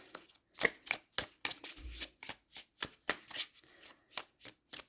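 A deck of oracle cards being shuffled by hand, a steady run of crisp riffling bursts repeating about every half second, close and clear with no talking.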